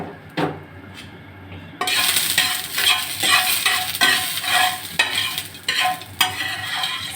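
Greens (shak) are stirred in a hot frying pan, with a brief quiet scrape at first and then steady sizzling broken by repeated spoon scrapes and clatters against the pan, close and fairly loud.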